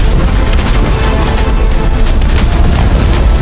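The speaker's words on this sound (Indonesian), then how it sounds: "Komandan Adul segera memerintahkan pasukannya untuk menembakkan meriam" Cannon fire in a battle scene from a film, a dense, loud barrage of booming blasts and crackling bursts that rolls on continuously and then cuts off abruptly at the end.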